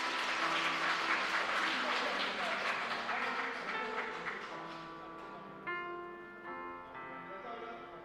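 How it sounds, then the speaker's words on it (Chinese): Congregation at a Sunday church service clapping together to bless someone, a steady wash of applause that thins out as sustained organ or keyboard chords rise beneath it. "我们拍手祝福他。"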